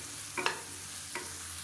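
Tomato chutney ingredients being sautéed in a pan, with a low frying hiss under two brief scraping stirs of a spoon, close and quiet, with no talk.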